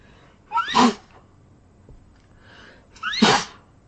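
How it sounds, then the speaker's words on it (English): Two loud, explosive sneezes a couple of seconds apart, close up, with quiet breathing in between. "Hold on, I feel like I'm gonna sneeze."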